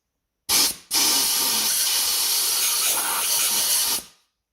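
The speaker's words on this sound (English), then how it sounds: "And I'll blow it out with some compressed air." Compressed air blasts through an oil passageway of a freshly bored John Deere B engine block: a short hissing burst, a brief pause, then a loud sustained hiss of about three seconds that stops sharply, with no speech.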